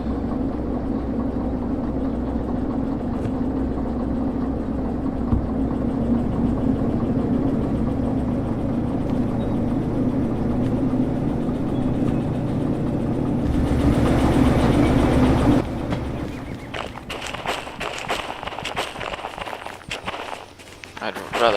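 A diesel locomotive idles steadily in the train simulation game Derail Valley, a continuous low mechanical rumble that holds under ambient game noise, with a brief louder surge before easing back near the end.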